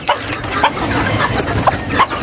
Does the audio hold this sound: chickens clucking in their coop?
yes